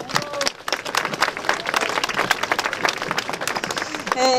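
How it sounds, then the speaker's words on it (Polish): Audience applause at a commemoration ceremony held in Poland for the victims of German Nazi concentration camps, a dense, steady wash of many hands clapping at moderate distance, with a voice starting to speak as it ends. "Brawa dla niej."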